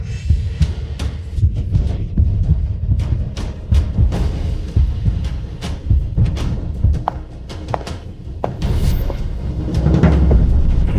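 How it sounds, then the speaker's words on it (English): A steady heartbeat sound effect thumps through a romantic drama scene, a regular run of soft low beats with faint background and no one speaking over it. "I finally hear your heartbeat once again."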